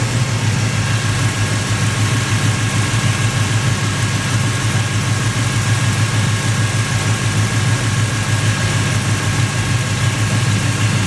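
A Chevrolet S10 pickup truck engine runs continuously at a steady idle, a loud, even low rumble with a constant hum and no change in pace throughout, nobody talking.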